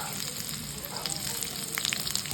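Fenugreek, mustard seeds, onion and spice powder sizzle and crackle steadily in hot oil, a continuous close frying hiss with scattered sharp pops, no voices over it.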